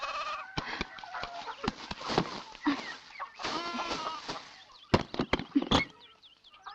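A hen in a village yard clucks in short, scattered bursts, with brief calls and pauses at moderate distance against a quiet background.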